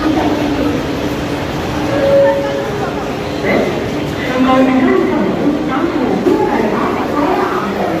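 The 13031 Jaynagar Express pulls out of Howrah toward Bandel, a steady rolling rumble with clanks and brief squeals throughout, heard from inside while someone talks over it.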